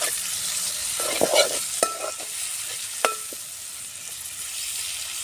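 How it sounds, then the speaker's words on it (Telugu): Prawns frying in a pan of hot oil for a Telangana-style curry, a steady soft sizzle with a few clinks of a spoon stirring against the pan, close and fairly quiet, with no talking. "రొయ్యలు వేసి కొంచెం మెల్లగా గడపలు ఇరిగిపోవు"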